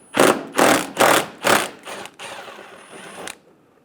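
A ratchet wrench works a 10mm bolt off a bumper bracket on a 2005-2015 Toyota Tacoma in five quick loud clicking bursts, followed by a softer continuous spin as the bolt loosens.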